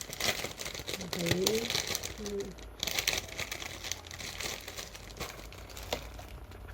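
A plastic bag holding a G string for a Strum Box ukulele is opened, with soft crinkling and rustling bursts under a voice that talks throughout.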